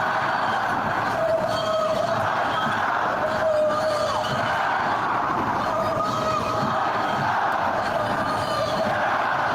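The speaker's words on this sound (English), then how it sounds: "They're cheering." A protest crowd cheers and shouts at a distance, a dense, continuous roar of many voices with faint siren-like tones running through it.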